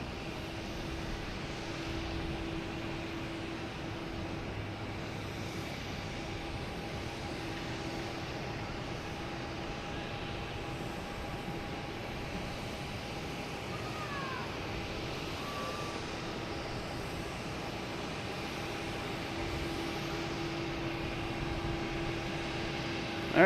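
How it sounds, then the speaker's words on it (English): An Air Canada Embraer E175 jet lands at Boston Logan Airport, arriving from Toronto, its engines a steady, moderate roar with a faint whine held through the whole stretch. "right now we have Air Canada coming in from Toronto, E175"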